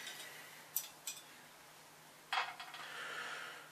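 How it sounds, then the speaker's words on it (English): Small metal parts of a Colt 1911 Series 80 pistol during disassembly, faint quiet room with a few sharp metallic clicks and a brief scraping slide as the trigger comes out. "our trigger slides out"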